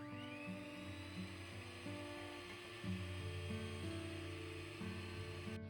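Electric hand mixer whirring at low speed as it starts beating rich plum cake batter, a steady close motor drone with shifting pitch steps throughout, no voices.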